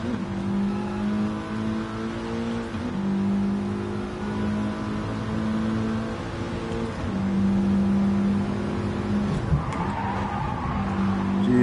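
Race car engine in a PS4 racing video game, a steady droning engine note that shifts pitch with gear changes and throttle, with tire noise and a brief skid near the end, continuous and fairly loud, no talking.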